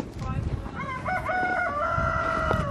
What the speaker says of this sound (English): And some roosters.